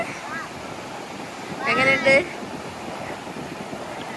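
Sea waves wash onto Barmouth beach in Wales as a steady, broad surf roar that runs the whole time, with a brief spell of people talking near the middle.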